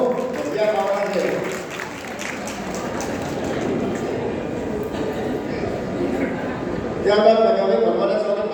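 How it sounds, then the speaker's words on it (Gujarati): An audience in the Swami Vivekananda town hall in Viramgam claps through a steady rush of applause at a municipal development ceremony. A voice speaks over the room at the start and again near the end. "આપણે સૌ તાળીઓથી વધાવી લો."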